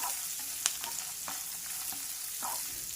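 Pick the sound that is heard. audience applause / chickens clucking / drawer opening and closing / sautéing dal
sautéing dal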